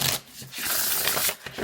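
A deck of Pantheon Tarot cards is shuffled close up, a loud papery riffling and rustling in a couple of quick bursts with brief pauses between, no voices.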